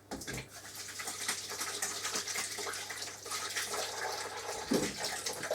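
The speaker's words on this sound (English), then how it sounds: "Now I better wash my hands, haven't I?" Hands are washed under a running kitchen tap, a steady close gush of water with brief splashes and knocks as the hands move beneath the stream, with no talking.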